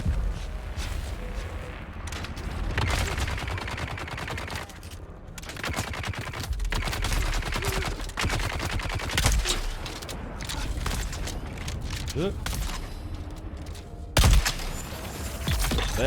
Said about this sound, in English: There we go, headshot with a driller round.